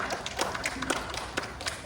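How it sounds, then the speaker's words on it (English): Applause for a young boy at a children's kite workshop in a library, a short burst of scattered hand claps from a small group, fairly quiet and uneven. "give him a big round of applause"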